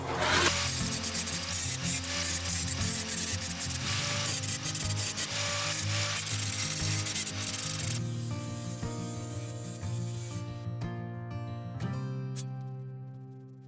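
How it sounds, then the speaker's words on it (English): A grinder works over a tack-welded metal ring for a round LED mirror frame, producing a loud, continuous, harsh grinding roar that dies away and trails off near the end. "just going to grind it to clean it off"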